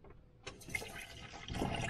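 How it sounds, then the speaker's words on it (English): Water gushes and runs from a tap fed by a Truma boiler in a camper van, a soft, steady rushing that grows slightly fuller toward the end, heard alone and fairly faint. "hopefully you can hear me over the top of the water"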